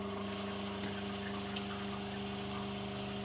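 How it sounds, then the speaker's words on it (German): A Toto Washlet RX or SX bidet toilet seat runs its nozzle retraction and self-cleaning cycle with a steady, close pump-like hum and water hiss, a constant mechanical drone with no voices. "Nach Drücken der Taste fährt die Düse in das Gehäuse zurück, reinigt sich automatisch selbst,"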